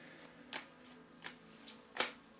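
Oracle cards being shuffled by hand, five quick papery riffles spaced about half a second apart, close and fairly soft with no talking.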